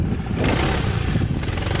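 A Kymco DTX350 adventure scooter engine running close by, a steady loud rumbling drone with slight surges throughout, no talk.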